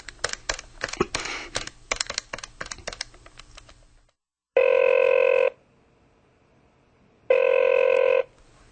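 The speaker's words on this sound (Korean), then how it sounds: "안 되겠다. 핸드폰으로 걸어봐야지." An outgoing cellphone call produces two long ringback tones separated by a pause, following a burst of rapid tapping like keys being pressed; the rings are clear and close, with no talking.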